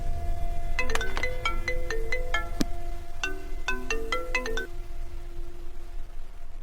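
A phone ringtone plays a bright, repeating electronic melody of short notes over a low background hum, then stops and leaves quiet noise.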